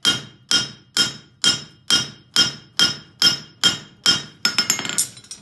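A flat hammer strikes steel in about a dozen evenly spaced, ringing blows while tidying hammer marks on a concave front horseshoe at the anvil, each hit loud and close with a bright metallic decay.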